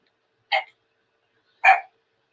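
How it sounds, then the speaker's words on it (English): A dog, set off by the neighbor's dogs outside, gives two short, sharp barks about a second apart, close and moderately loud with silence between them. "my dog's barking because he can see the neighbor's dogs outside"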